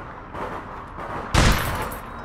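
Gunfire in the online shooter game APB Reloaded, a rapid burst of shots followed by a heavier louder volley, continuous and close with no speech.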